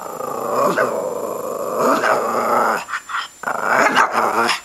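A dog growls and barks up close in short bursts, with brief pauses between the rough snarling sounds.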